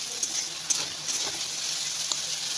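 Pumpkin and potato frying in a pan, a steady, bright sizzle with a few faint scrapes and small pops, heard alone at moderate loudness.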